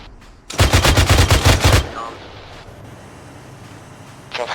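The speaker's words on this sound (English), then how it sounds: "I can't see him, I'm just blind firing." Gunfire in the military shooter Arma 3: a loud, rapid automatic burst lasting about a second, then quieter background ambience and a brief faint burst at the end, with no talk over it.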